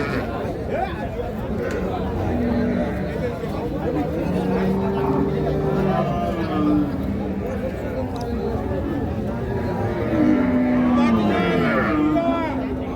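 Crowded Ambari cattle market with a tall six-tooth Sahiwal Sindhi cow and her calf, steady chatter and people talking over it, with a few low lowing calls from cattle rising out of the crowd noise.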